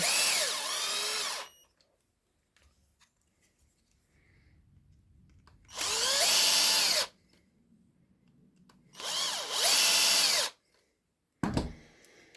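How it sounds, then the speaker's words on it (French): A power screwdriver drives screws to fasten the second scale onto a Laguiole knife handle, running in three loud bursts of whirring, the middle two longer, separated by quiet handling and ending with a short final buzz. "je vais visser le deuxième côte"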